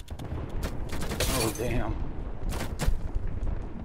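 Rapid gunfire from many weapons at the firing range in Apex Legends, dense bursts and booms packed together across the whole stretch, with a voice exclaiming over it.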